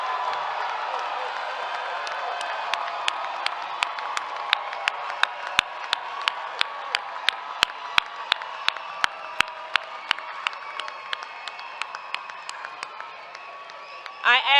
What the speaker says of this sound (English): join me in one final celebratory rousing round of applause for the master's and doctoral class of